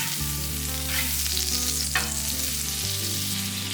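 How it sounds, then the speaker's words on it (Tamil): A small amount of butter sizzles and crackles in a frying pan, a steady close hiss with light stirring and scraping and no talk. "இப்போ பட்டர் வந்து கொஞ்சமாக போட்டுக்கலாம்."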